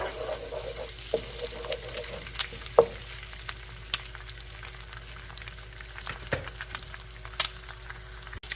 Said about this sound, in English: We are going to scramble the egg.